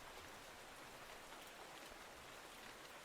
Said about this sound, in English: But it was the rain noise.